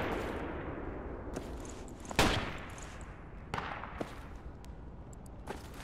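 Heavy machine gun fire in Project Reality, a distant HMG engaging from the southeast: far-off cracks and bursts scattered over a steady rumbling battlefield wash, with one sharper report standing out partway through.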